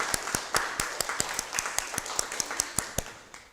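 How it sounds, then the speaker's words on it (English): An audience at a youth parliament candidacy debate claps in a thin, scattered patter of individual hand claps, fairly faint and tapering off, with no talk. "please give a round of applause to all our candidates"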